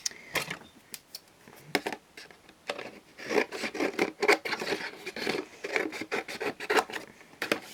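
Scissors cutting paper for a Sizzix craft project, a run of close, crisp snips and rustles that come in quick bursts, with no talking.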